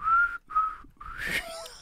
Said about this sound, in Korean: 휘파람 불죠. 휘파람 어떻게 해요?